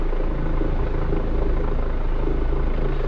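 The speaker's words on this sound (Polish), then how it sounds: "Helikopter nam odlatuje." Loud, steady helicopter rotor thumping and engine roar, close by and continuous throughout.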